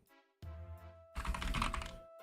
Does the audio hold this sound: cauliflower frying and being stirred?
no